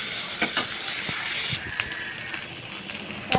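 Onions and green chillies sizzle in very hot oil in a wok, a steady loud hiss with small crackles and a few stirring scrapes, without speech.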